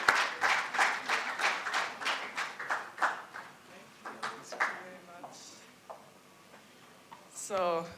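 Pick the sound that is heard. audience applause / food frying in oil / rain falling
audience applause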